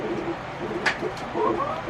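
Backyard chickens make soft, chatty clucks and coos close by, with a brief sharper squawk partway through, in a short, fairly quiet stretch.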